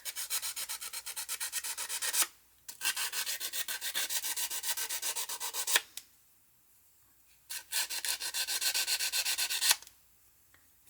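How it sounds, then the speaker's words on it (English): A wire-wrapped jewelry piece is sanded by hand with 320 grit sandpaper, producing close, steady scratchy rubbing strokes in three long bursts separated by short pauses. "So I'm using some 320 grit sandpaper, and I'm just going to go over that a little bit."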